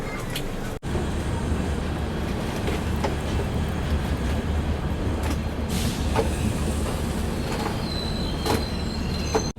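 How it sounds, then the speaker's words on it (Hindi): Agartala Tejas Rajdhani Express pulling out, a steady close rumble of rolling wheels and carriage noise filling the whole stretch, with faint clanks and a brief dropout early on. "अभी देखो ट्रेन निकली"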